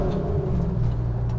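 A drift truck's engine growls and rumbles steadily at close range on a wet road during a burnout attempt, a brief thick low roar with no voices.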